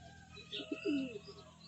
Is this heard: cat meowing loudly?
no